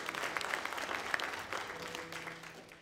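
A church congregation claps in a sustained round of applause, moderately loud and even, with a faint sustained tone rising underneath toward the end.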